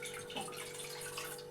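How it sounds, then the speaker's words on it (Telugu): A little water is poured into a pan set on a lit stove for a village-style drumstick stir-fry, making a steady, close rushing splash that lasts the whole moment with no talking. "ఇప్పుడు కొద్దిగా వాటర్ పోసుకుంటున్నాను."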